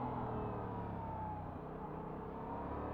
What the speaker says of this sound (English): Second and now third, it has more of a pop to it as far as like a punchiness